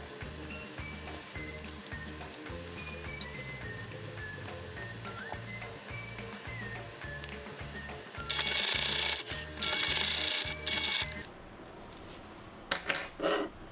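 Sewing machine stitching the seam of a ballet bag runs in a steady, rapid mechanical rhythm for several seconds, close and moderately loud, then stops, leaving scattered fabric handling noises and clicks.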